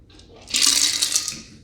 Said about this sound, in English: Pour it into our chilled martini glass.